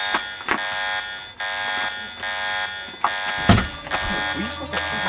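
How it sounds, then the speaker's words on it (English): An alarm in a 2007 bounty hunter film blares in repeated loud pulsing bursts, with shouted voices and a bang cutting across it near the end. "Were you supposed to fucking turn off the alarm?"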